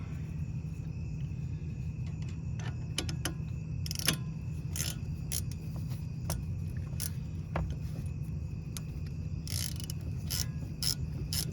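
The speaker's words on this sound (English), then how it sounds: "you grab your ratchet that you just had, and you tighten it up." Ratchet tightening a bolt on a Ford Escape brake assembly, heard as scattered short metallic clicks and rattles over a steady low mechanical hum, with busier bursts of clicking near the end.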